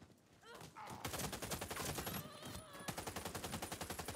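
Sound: AUG A3 HBAR light machine gun firing in video game Warface

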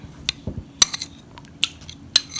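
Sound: piercing stuffed bell peppers with a utensil

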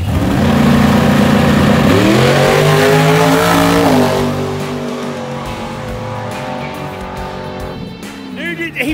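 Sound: Camaro drag racing at Benton Speedway

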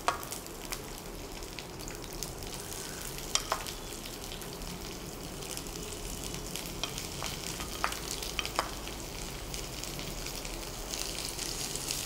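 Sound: mustard seeds frying in hot oil

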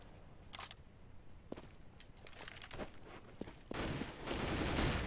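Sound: AWP sniper rifle shots in video game Counter-Strike

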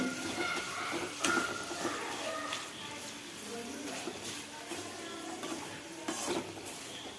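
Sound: papad frying in hot oil

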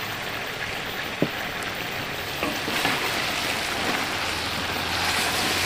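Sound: tomatoes frying in mutton karahi

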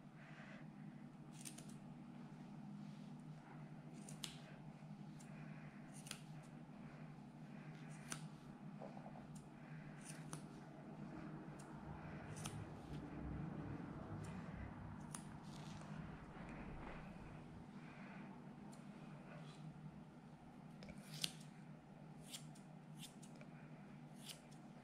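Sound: scissors trimming angora rabbit fur

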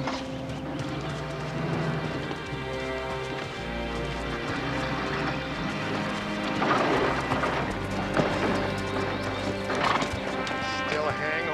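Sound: horses hooves clip-clopping and neighing

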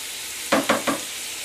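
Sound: chicken frying in a pan

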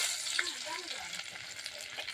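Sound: garlic frying with chilli in hot oil

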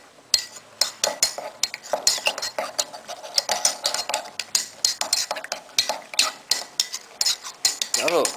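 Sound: stirring strawberry milkshake with a spoon

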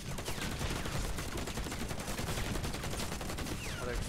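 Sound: gunfire through a wall, from the video game Warface

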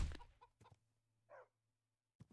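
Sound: chicken clucking in video game Minecraft FTB Revelation

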